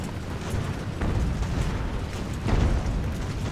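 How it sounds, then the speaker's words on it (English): Ships open fire with cannons in the naval strategy game Ultimate Admiral: Age of Sail, bombarding a coastal fishing village; dense, rumbling booms roll in repeatedly, with heavier blasts near the start, middle and end. "So both of our ships have opened fire, trying to lay some suppression on the defenders in the fishing village"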